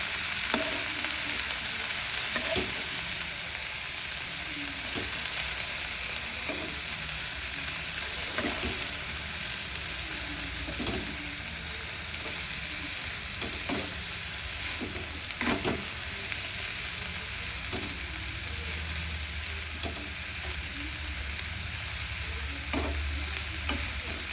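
Cabbage and tomato curry with sesame seeds being stirred in a frying pan, a steady close sizzle with soft periodic scraping strokes of the spoon throughout, no talking.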